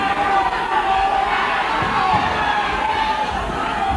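A hometown crowd at a 1989 kickboxing match between Tommy Williams and Andy Morgan cheers and shouts loudly and continuously, with voices mixed into the roar.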